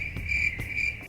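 Crickets chirp steadily in a close, continuous high trill with faint pulsing, alone and with no voices over it.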